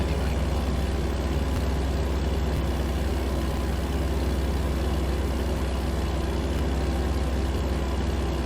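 A Cummins QSK19 truck engine cruises at about 1500 rpm in American Truck Simulator, with a steady, loud, low drone and no break.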